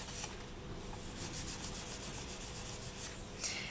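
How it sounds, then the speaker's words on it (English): The back of a polymer clay earring is gently sanded by hand, quiet rhythmic rubbing strokes close up, repeated scratchy passes with no talking. "just take it and gently give it a sand"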